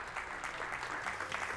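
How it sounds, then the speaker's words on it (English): A brief, moderate burst of clapping from a conference audience in the middle of an awards moment, applauding the third-place group at an innovation conference on building renovation. "So I would like to have the applause for the group number 3."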